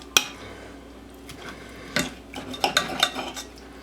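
A knife and fork carve stuffed chicken thighs on a dish, with sharp metallic clinks and scrapes against the plate, one early strike, then a cluster of taps and scrapes later, close and clear without talk.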